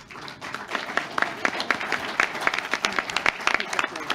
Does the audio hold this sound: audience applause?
yes